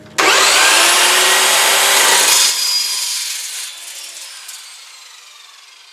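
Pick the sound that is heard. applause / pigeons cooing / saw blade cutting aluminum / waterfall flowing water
saw blade cutting aluminum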